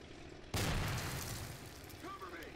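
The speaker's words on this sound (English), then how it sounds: "We are getting grenades out." A grenade explodes in the World War II game Men of War: Assault Squad 2 during a D-Day Omaha Beach battle, one sudden muffled boom that decays into a rumbling tail amid distant battle noise.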